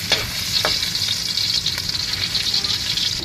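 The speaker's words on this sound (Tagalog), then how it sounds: "Mainit na yung kawali, lagyan natin ng mantika. Doon natin lalagay ang bawang." Garlic frying in hot oil in a heated pan, a loud, steady hiss of sizzling with a few crisp pops and stirring taps throughout.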